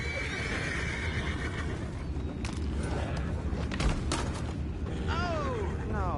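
Horse whinnies from a Western video game camp scene, a rising-falling neigh near the end over a steady ambient bed with faint creaks and distant movement.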